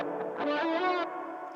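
Guitar run through a BOSS GT-1000 with chorus into plate reverb, set fully wet: a short sustained chord with a lush, shimmering, slightly wavering tone and a smooth reverb tail, heard alone at moderate volume.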